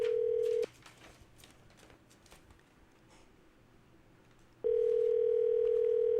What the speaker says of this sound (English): Hope I dialed the right number.